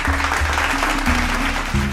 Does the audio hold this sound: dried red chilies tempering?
no